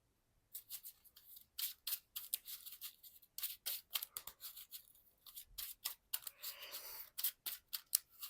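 Playing cards being shuffled by hand during a tabletop card game, a dense run of crisp riffling bursts and short snaps repeating quickly for several seconds, close and fairly quiet, with no voices.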